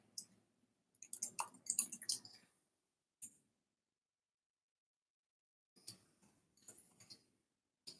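Typing on a computer keyboard, close and quiet, with a brief burst of rapid key clicks followed by scattered isolated taps separated by silence.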